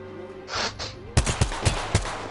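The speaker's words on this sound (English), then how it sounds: "Did Gibraltar just block that last shot?" Gunfire in the Apex Legends video game, with four or five sharp, punchy shots spaced about a quarter second apart following a softer whooshing burst, loud and close with no talk.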